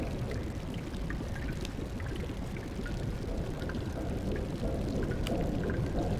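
A waterfall in the role-playing game Xenogears rushes steadily, a dense continuous roar of falling water with faint scattered splashy ticks above it and no talk.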